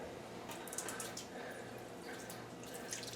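A cup of white wine poured over raw rabbit in a roasting pan makes a soft, steady trickle with light splashing and dripping, heard close over a continuous kitchen hiss.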